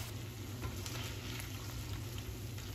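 Pork adobo with soy sauce is stirred in an oily pan, giving a low, quiet, continuous simmering sizzle with faint scraping under a steady background hum.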